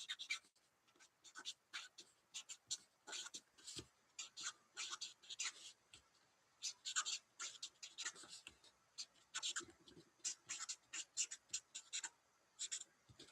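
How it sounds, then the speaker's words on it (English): A pencil scratches on paper in quick, faint strokes, a steady close run of short scribbling bursts with no talking. "But I'm going to write this right now."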